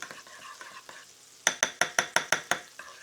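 Ground beef, pork and lamb are mixed with raw clover honey for burgers, with soft squelching stirs giving way to a run of seven sharp, evenly spaced clinks of a utensil against the bowl, close and clear.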